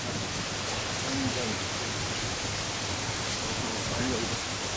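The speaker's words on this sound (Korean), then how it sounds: "폭포가 있어요." Steady broadband rush of a waterfall at a hotel in Sapporo, constant and fairly loud with no breaks, as a low voice briefly murmurs beneath it.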